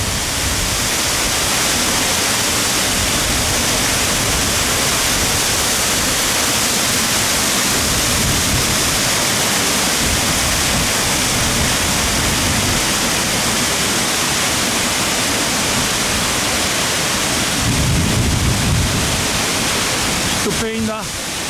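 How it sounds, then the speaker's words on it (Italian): Masarè waterfall near Alleghe in the Dolomites roars as a steady, loud broadband rush of falling water, unbroken from start to finish, with a brief swell of low rumble near the end. "E concludo con la cascata, dai, è una meraviglia."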